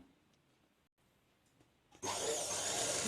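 A sewing machine stitches the seams of chudidar pants. After a near-silent stretch, a loud, steady motorized whir starts abruptly and runs to the end.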